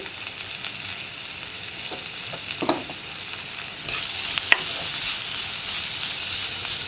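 Onions sauté in a pan for a Kerala eggplant curry, giving a steady hiss of sizzling oil with a few sharp scrapes and clicks from stirring, close by and without any talk.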